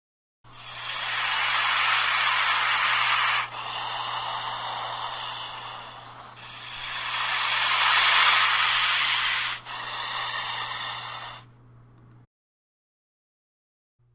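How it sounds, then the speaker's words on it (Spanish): A snake hisses in two long, loud bursts, each breathy exhale tapering before the next, with no other sound around it. "Víbora."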